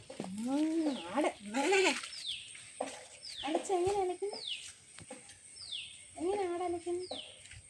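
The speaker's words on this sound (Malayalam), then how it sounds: "അതിൻ്റെ കൗതുകത്തോടെ ആടിനെ നോക്കുവാണേ, കൗതുകത്തോടെ നോക്കുക അല്ലി ആടിനെ." A goat bleats repeatedly at close range, in short wavering calls spaced through the clip, while birds chirp in the background.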